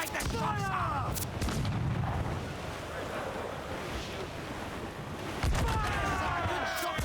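Cannons boom from a sailing warship in Assassin's Creed 4 Black Flag, heavy blasts over steady surf and wind, with crew voices shouting between volleys.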